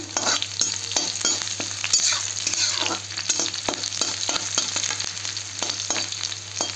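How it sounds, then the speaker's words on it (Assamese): Onions fry in a pan in a home kitchen, giving a steady close sizzle broken by frequent scraping strokes as they are stirred, with no talk. "এইখিনি অকণমান ভালকৈ ভাজা হওক আৰু পিঁয়াজটো অকণমান লাল কৰিব লাগিব।"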